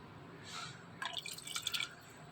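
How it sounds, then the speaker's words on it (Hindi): Lemon juice drips into beef yakhni for pulao in a quick cluster of faint, close, wet drips lasting under a second. "ये अब मैं इसमें डालूँगी लेमन,"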